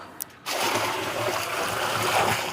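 Water is poured out onto the ground outdoors, a sudden steady splashing rush that starts after a short quiet moment and continues at moderate loudness without talk.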